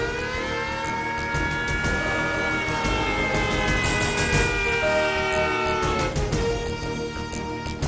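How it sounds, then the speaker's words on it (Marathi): A wailing alert siren rises and falls steadily over a continuous rumble of traffic, sounding moderately distant and persisting throughout without any speech. "अलर्टसाठी सायरन वाजवण्याच्या देखील सूचना"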